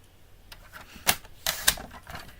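Paper strips are trimmed down to half an inch with a few sharp, close cutting snips and clacks, isolated against a quiet background.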